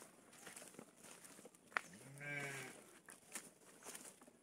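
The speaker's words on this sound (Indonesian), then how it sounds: "Tuh, ada kambing" A goat at a rural village latrine gives one drawn-out bleat at moderate distance, a wavering cry lasting about a second, over quiet outdoor background.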